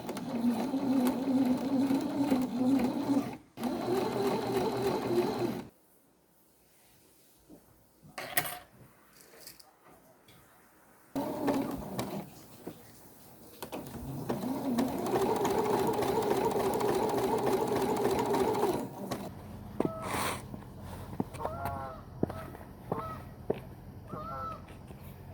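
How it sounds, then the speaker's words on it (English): A sewing machine stitches bias tape onto a skirt hem in bursts of steady whirring, stopping and restarting with quiet gaps between runs. "I've got some vintage bias tape, and I'm going to sew it on and use it like a hem tape."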